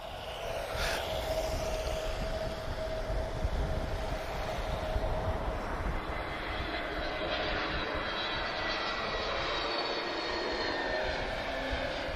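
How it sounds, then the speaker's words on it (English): An Airbus A321neo lands at Lisbon Airport in a crosswind, its jet engines giving a loud, continuous roar. The roar swells slightly and then slowly fades as the aircraft passes. "So we'll see how this A321neo does with the crosswind here."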